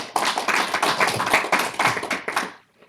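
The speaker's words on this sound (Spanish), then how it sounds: "Un aplauso al Señor," A church congregation claps in praise during a service, a burst of quick hand claps at close range that carries on briskly and then stops abruptly, leaving silence.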